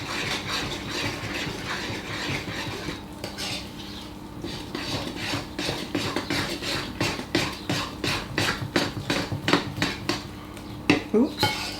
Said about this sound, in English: And now you need to mix that together really well.